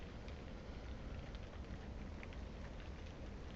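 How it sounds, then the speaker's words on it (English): Rain beginning to fall outdoors, a soft, steady broadband hiss that stays even and fairly faint throughout with no voices. "Ooh, starting to rain."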